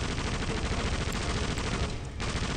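Gunfire in the video game Indiana Jones and the Emperor's Tomb: a dense, continuous volley of shots at close range, loud and steady, with a brief dip near the end and no voices.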